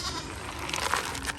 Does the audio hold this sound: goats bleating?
yes